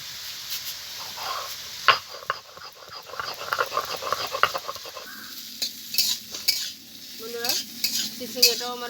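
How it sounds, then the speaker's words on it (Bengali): Sliced snake gourd fries in a pan with a steady sizzle while a utensil stirs and scrapes, clinking against the metal now and then, close and fairly loud. "চিচিঙ্গাটা ভাজা হতে থাক"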